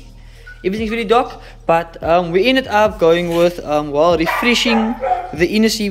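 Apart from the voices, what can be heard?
dog barking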